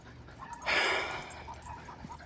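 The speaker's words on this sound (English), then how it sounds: "Hey, you need to calm down, dog. You hear yourself?" A dog pants in quick, breathy bursts with a brief soft whine, close by and faint, no talking.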